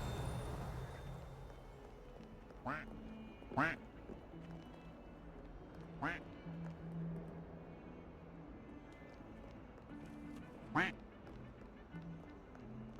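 A duck in the Hogwarts Legacy video game quacks four times at irregular intervals, each short nasal call standing out clearly over a low, steady game ambience.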